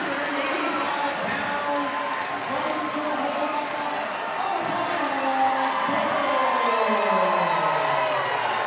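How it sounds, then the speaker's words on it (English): A big crowd at a Tahoma Bears versus Orting Cardinals game roars after Tahoma's win, sustained loud cheering and whooping with a dense wash of voices and scattered shouts throughout. "Never seen such a crowd so hyped."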